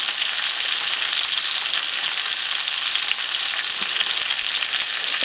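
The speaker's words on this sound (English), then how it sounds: "I just turned it. Getting a beautiful caramelization on there." Pot roast beef sears in a hot pan, giving a loud, steady, continuous sizzle and crackle with no speech.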